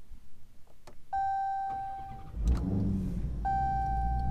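A Dodge Hellcat drag car starts up: two electronic chime tones sound from the cabin, then the engine cranks and catches with a loud low rumble, and a second chime follows while it idles.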